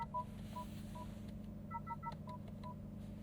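A 2025 Honda Accord Hybrid's Google infotainment screen plays short, quiet electronic blips and beeps as menus are swiped, a scattered run of about a dozen quick tones over a faint cabin hum.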